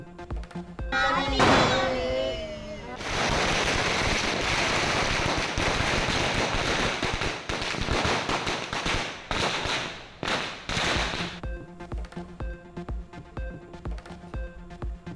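Firecrackers burst during Diwali celebrations in Chennai, a dense run of loud, sharp cracks and bangs that come rapidly for much of the stretch, then thin into scattered pops over a steady background hum.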